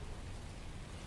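Steady rain falls in The First Descendant video game as a dense, even hiss with a low rumble beneath, continuous and fairly faint, with no voices.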